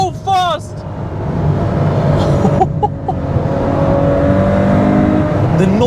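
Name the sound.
Ferrari 812 Superfast engine accelerating on Autobahn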